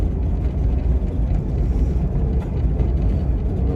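A 1986 Dodge Ramcharger driving with a loud, rumbling engine, a steady low drone heard from inside the cabin for a few seconds without talk.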